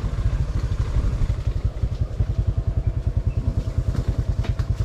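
Motorcycle engine chugging in a steady, rapid low pulse while riding along a flooded seashore, the thump close and continuous with faint splashing and wind above it.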